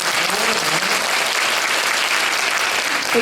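An audience at a school parents' concert applauds in a dense, even burst that fills the whole moment without any voices.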